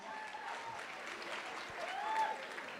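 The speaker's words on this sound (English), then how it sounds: "All right, round of applause for them." A conference audience at a business event gives a faint, distant round of applause, a soft continuous patter of clapping with a brief whistle or cheer rising near the end.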